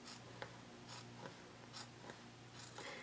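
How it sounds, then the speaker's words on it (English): Scissors snip through a fabric pattern piece up close in quiet, short rhythmic strokes, several cuts spaced about a second apart over a faint room hum. "now you can go ahead and cut out your exterior pattern piece"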